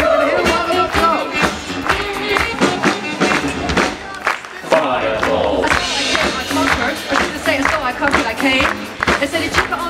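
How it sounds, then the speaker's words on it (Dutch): Warm applause and clapping from an audience at a revue show in Gennep, a dense patter of hands mixed with crowd noise and voices, loud and sustained throughout. "mag ik een heel warm applaus"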